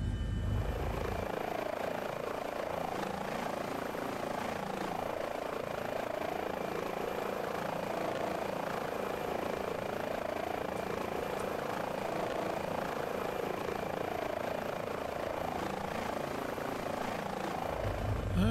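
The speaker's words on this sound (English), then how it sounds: "Engine 1 and engine 2 are now gone out of the idle mode" Twin engines of an H145 helicopter spooling up out of idle, a loud steady turbine whine and broadband rotor roar holding continuously throughout, with no speech.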